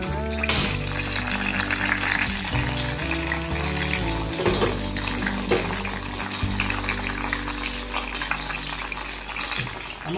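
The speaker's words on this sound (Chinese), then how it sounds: "我们慢慢煎啊，素鹅比较难煎的" Vegetarian goose taro rolls pan-frying slowly in moderately hot oil make a continuous bubbling sizzle, partly buried under loud background music.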